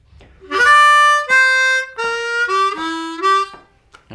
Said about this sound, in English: let's learn a glissando lick that uses that 4 draw glissando